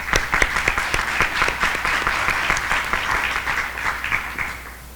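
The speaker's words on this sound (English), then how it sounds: "Let's give her another round of applause." An audience applauds at a North Carolina school district accountability results event, with steady, dense clapping sustained for several seconds that gradually tapers off near the end.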